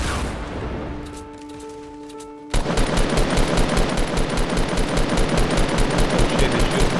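Fortnite gunfire: after a quieter stretch with a steady tone, sustained loud rapid automatic fire erupts suddenly and runs without pause to the end.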